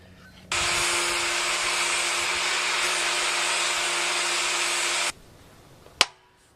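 An angle grinder running on metal, a steady loud whine from a close machine for about four and a half seconds before cutting off, followed by a single sharp knock.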